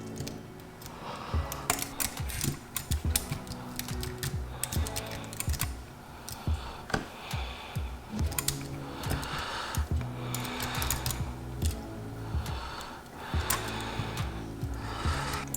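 Rapid computer keyboard and mouse clicks from someone playing Destiny 2 on Google Stadia, a busy, irregular run of close, crisp taps and presses with no talking.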